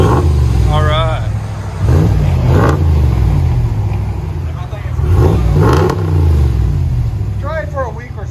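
A 5.7L HEMI V8 in a RAM 1500 with Flowmaster Super 10 exhaust and resonator deletes, blipped several times in loud, rumbling bursts, with people talking over it near the start and end.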